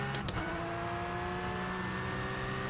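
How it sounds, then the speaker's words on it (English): Race cars in the sim racing game rFactor 2 sweep past as a brief whoosh at the start, then a steady engine drone with whine carries on alone, fairly loud and continuous. "hearing the cars whooshing by, that sounds pretty cool"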